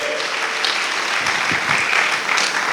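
A church congregation claps together in a dense, even burst of applause during a sermon, close and full, with a faint voice underneath.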